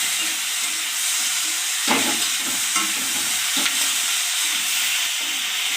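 Dried fish frying with chopped tomato in a pan gives a loud, steady sizzle with a few sharp scraping stirs of a spoon, and no voices are heard.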